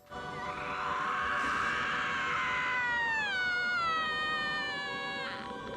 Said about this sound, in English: she gives out a banshee scream